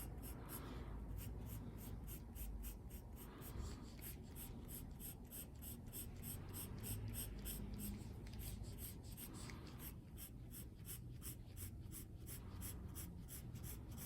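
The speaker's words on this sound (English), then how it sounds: "Once again, making all these marks with one single pencil." A single pencil hatching on paper, rapid rhythmic scratchy strokes in quick even bursts, close and quiet, continuing steadily with brief pauses and no talking.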